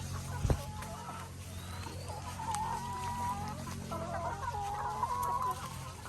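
A flock of laying hens at an egg farm clucking steadily in overlapping, wavering calls, moderately close, over a low hum with a brief thump near the start.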